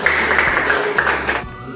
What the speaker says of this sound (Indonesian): mari kita tepuk tangan untuk kita